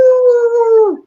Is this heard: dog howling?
yes